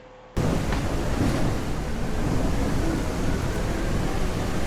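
Heavy rain and rolling thunder in the survival game SurrounDead, a loud dense roar that bursts in after a quiet instant and stays constant, no talking.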